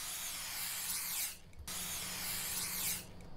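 Spray can hissing in The Convenience Store video game, two steady sprays each lasting over a second with a brief gap between, loud and close with no talk.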